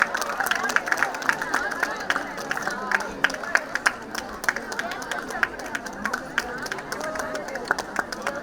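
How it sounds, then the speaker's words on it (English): Audience at a classical music forum applauding a group of music students: steady, dense clapping mixed with crowd chatter and murmuring throughout. "Let us give them a very big round of applause."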